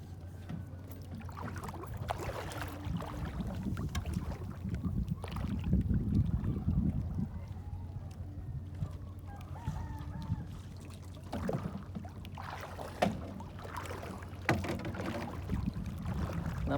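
A small outrigger boat moves across windy water with a low, steady engine drone, gusts of wind buffeting the microphone and water splashing now and then.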